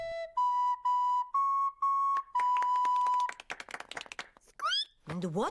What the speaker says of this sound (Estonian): Mina mängin teile plokkflööti.